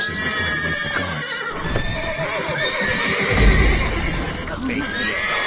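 Horses neigh and whinny in The Witcher 3: Wild Hunt game, with clip-clop hoofbeats and a dense game soundscape filling the background throughout.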